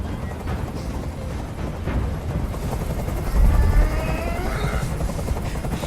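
A helicopter's rotor thrums continuously nearby in Detroit: Become Human, with a deeper swell partway through and faint scattered higher sounds.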